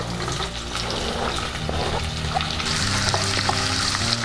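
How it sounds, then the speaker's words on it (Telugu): Steady oily sizzling of onions, curry leaves and tempering spices frying in a pan, continuous and close, with occasional stirring clinks and no talking. "ఇప్పుడు తాలింపును బాగా వేయించుకోవాలి"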